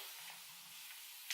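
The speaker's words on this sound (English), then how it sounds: "I just have my spray bottle here with some water, and I just go around" Soft, steady hissing of a fine water mist from a spray bottle being sprayed onto hair, very quiet and close, with a faint brief click near the end.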